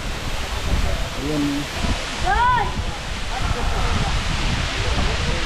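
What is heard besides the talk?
Balagbag Falls waterfall in Real, Quezon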